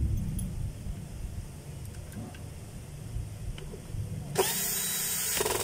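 A power drill drives a screw into a tool's field housing cover. It starts suddenly near the end as a loud, steady whine, after quieter handling clatter.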